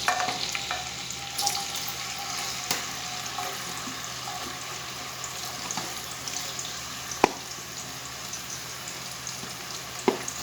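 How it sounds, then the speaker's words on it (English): Onions frying in hot oil in a pan, a soft continuous sizzle with occasional stirring clicks and scrapes. "Now in the same oil, we'll add the onions."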